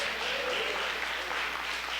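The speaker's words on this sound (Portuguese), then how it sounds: "Dá um aplauso ao Senhor" A church congregation claps together in a brief, continuous burst of applause during a sermon, with the clapping steady and fairly loud and no clear voices over it.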